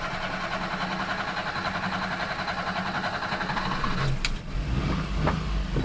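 A small mini truck engine runs with a steady mid-pitched hum and a brief clunk or bump near the end, moderately close with no talking.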